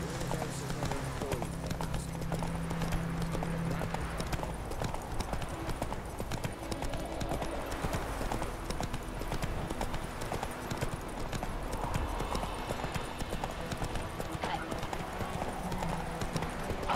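Galloping hooves of a horse in the video game The Witcher 3 drum in a quick, continuous rhythm throughout, with game dialogue voices and ambient sounds over the beat.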